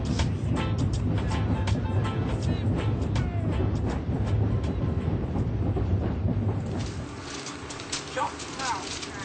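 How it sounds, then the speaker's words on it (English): London train at a station, the rumble and clatter of the cars carrying on steadily, then quieting near the end, with a voice talking over it. "This train's about to leave."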